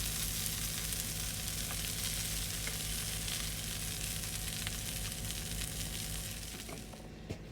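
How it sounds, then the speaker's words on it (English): Jalapeno frying in a hot pan, a steady close crackling sizzle with scattered pops, continuous and fairly loud with no talk, easing slightly at the end. "Listen to the sound of that frying."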